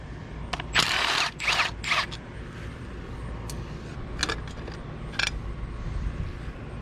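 Ratchet wrench clicks removing differential cover bolts on a 1988 Firebird, short bursts of rapid metallic ratcheting followed by a few isolated clicks and clunks, close and moderately loud, with no talking.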